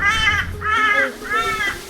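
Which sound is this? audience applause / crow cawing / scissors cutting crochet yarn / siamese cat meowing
crow cawing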